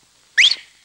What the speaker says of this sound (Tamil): என்ன இனிமையான விசில்.